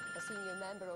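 A telephone rings with a steady electronic tone while a voice speaks over it through most of the ring.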